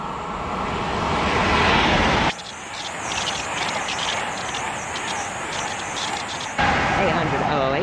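A Class 800 train passes close by on the Great Western main line at Slough: a loud steady rushing roar with a sudden shift as the carriages sweep past, then the noise drops back.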